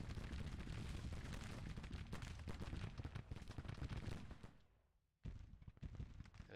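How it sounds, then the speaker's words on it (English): Artillery and gunfire from a video game battle: a dense, continuous barrage of loud booms and cracks that drops away briefly to near silence before the firing resumes. "I love this look of the artillery just kicking it up a notch"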